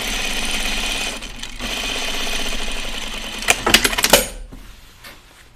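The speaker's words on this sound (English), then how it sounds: "All right, so I'm doing a French seam here." A sewing machine runs a steady, close, continuous whir while stitching a French seam on a pair of jeans, then stops; a brief burst of sharp metallic clatter and clicks follows.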